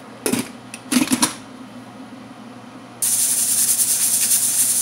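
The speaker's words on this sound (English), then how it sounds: "you're going to cook this in the pressure cooker" A pressure cooker cooking mutton lets out a steady, loud hiss of escaping steam that starts abruptly and continues, after a few brief clattering knocks.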